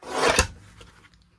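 Paper pieces for a junk journal being trimmed, a single close rasping scrape that fades quickly, followed by faint rustling.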